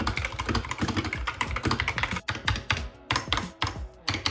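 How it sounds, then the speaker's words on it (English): A budget mechanical gaming keyboard is typed on rapidly and close up, a dense clatter of sharp key clicks with brief pauses near the end. "Here is the sound test of this keyboard."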